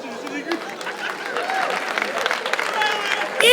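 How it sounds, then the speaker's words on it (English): Applause and crowd noise from the audience at a live stand-up comedy show, steady clapping mixed with cheers and chatter for the whole stretch, swelling slightly near the end. "That is a good place to clap."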